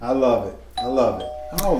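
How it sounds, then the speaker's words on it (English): A chime rings over excited overlapping voices, with a tone sustaining in the background. "that's the doorbell"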